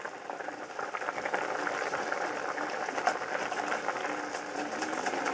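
Ramen noodles boiling in a pot of water, a steady soft bubbling and hiss that runs evenly throughout at low volume, with no talking.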